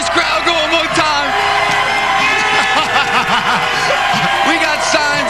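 Crowd at a stadium football game in Arizona whooping and cheering, a loud roar of many voices with a commentator's voice speaking over it.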